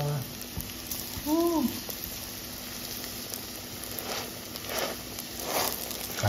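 Onions and minced garlic fry in a pan with a steady, soft sizzle that runs throughout, joined by a brief whistling tone early on.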